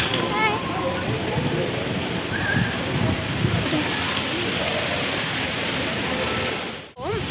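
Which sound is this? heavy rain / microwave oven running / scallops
heavy rain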